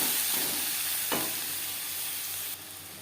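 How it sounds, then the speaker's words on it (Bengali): Chopped tomato pieces sizzle and hiss in hot oil with fried dried red chillies, a steady broadband fry with a brief stir around the middle and a slight drop in level near the end, no talking. "শুকনো লঙ্কা ভেজে নেওয়ার পর দিয়ে দেব টমেটো"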